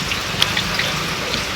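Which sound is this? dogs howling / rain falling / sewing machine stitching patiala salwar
rain falling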